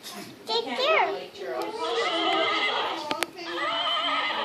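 A ride-on toy horse gives out recorded neighing and whinnying close by, rising and falling calls along with clip-clop effects, while children talk and play around it.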